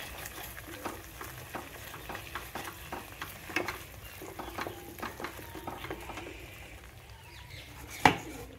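Masala with red chili powder and turmeric frying in oil in a pan for a mushroom and pea curry, a soft continuous sizzle broken by repeated scraping stirs and a sharper utensil clink near the end.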